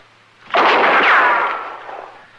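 A single loud rifle shot in an old-time western radio drama, a sharp blast that swells into a long ringing, echoing roar and slowly fades, with no voices.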